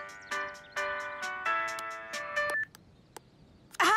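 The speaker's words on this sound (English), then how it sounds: "However did that horrid song become my ringtone?" A cartoon phone ringtone plays a bright electronic melody in a string of sustained tones and notes, then stops, followed by a short burst of sound near the end.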